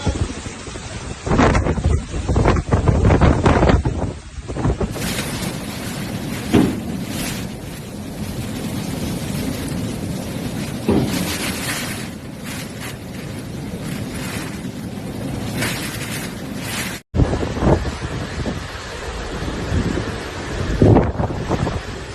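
Hurricane-force wind from Hurricane Melissa roaring across western Jamaica, a loud continuous howl and rumble battering the microphone, with gusts surging and easing over about twenty seconds and a brief dropout near the end.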